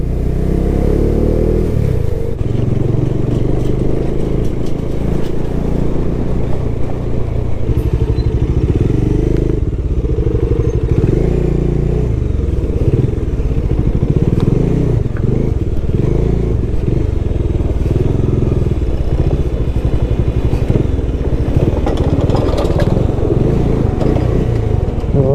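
Steady motorcycle engine drone and road rumble throughout a bike ride on the road from Kullu to Dharamshala, with wind buffeting and some clatter, loud and continuous with no pauses.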